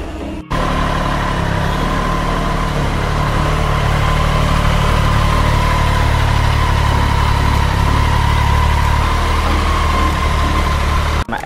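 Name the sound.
Triumph Street Triple 765 RS engine running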